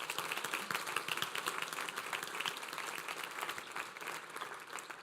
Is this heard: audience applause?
yes